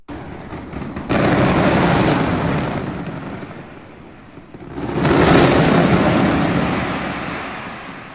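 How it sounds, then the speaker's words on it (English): Massive booming explosions, either fireworks or an airstrike, roll across a city neighborhood in South Central. Two long, loud rumbling blasts, one after another, swell and fade with no talking. "somebody in South Central either got their hands on some intergalactic fireworks or just called in an airstrike on one of their ops"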